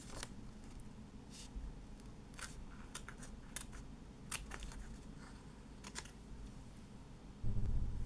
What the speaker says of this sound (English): I'm going to cut those two little holes out